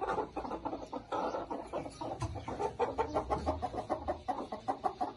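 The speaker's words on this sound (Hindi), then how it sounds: "अभी दोस्तों हमारे पास ये 2 मुर्गी हैं," Two broody hens give a rhythmic run of low, repeated clucks, close and moderately quiet, pulsing steadily with no talk over them.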